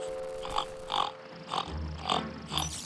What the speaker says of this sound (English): Sounds like he's in there with a pig.